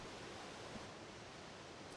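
Steady rushing water runs continuously inside the game Eco, a broad even wash like a stream or tap flow holding at a constant level throughout, with no voices.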